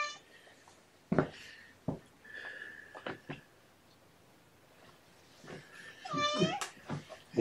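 Several kittens meow in short, high-pitched calls spread through the clip, with a cluster of rising, wavering meows near the end, heard close over quiet room noise.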